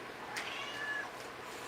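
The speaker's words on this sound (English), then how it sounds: "My cat says hi, Yvonne." A male house cat lets out a single drawn-out meow, moderately close, against a quiet indoor room.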